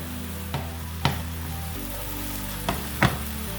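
Kale and mushrooms cooking in a pan, a soft continuous sizzle broken by four sharp clacks of a utensil against the pan, close and quiet, with no talk.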